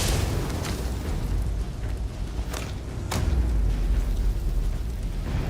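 Incendiary grenades going off in the video game Starfield: a dense, rumbling roar of blasts and crackling bursts with a couple of sharp pops, loud and continuous.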